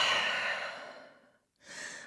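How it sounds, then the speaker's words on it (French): During a yoga session, a slow, deep breath is let out as a long airy sigh that fades to silence, followed by a shorter fresh breath drawn in, close and quiet. "Et dernière grande respiration ici"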